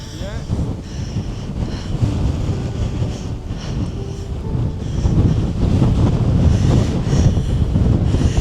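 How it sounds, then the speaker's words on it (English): Strong shoreline wind battering the microphone on a wild-weather day at Mandø, Denmark, a continuous loud rumbling roar that swells even harder in the second half, with possible surf beneath and no clear talk. "The wind is actually getting stronger and stronger the closer I get to the shoreline."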